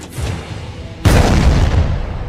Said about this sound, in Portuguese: Um tiro de canhão indicava que eles não tinham achado nada.